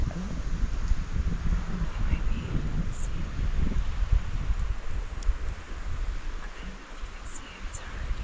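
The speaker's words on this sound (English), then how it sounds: "Beautiful, but very windy." Strong wind buffets the microphone in a low, gusty rumble, with rustling noise on top that rises and falls throughout.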